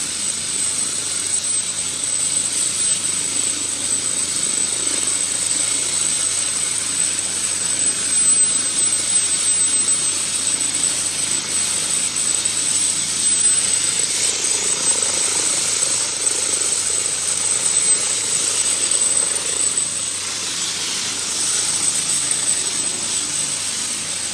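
A helicopter engine up close: a steady, loud roar with a high-pitched turbine whine runs without a break, close by and continuous, with no voices heard.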